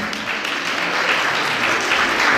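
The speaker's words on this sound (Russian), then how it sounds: "Друзья, ваши аплодисменты." A New Year concert crowd at a French cultural alliance in Tolyatti gives a Japanese culture and language club loud, continuous applause, a thick unbroken roar of clapping with no speech.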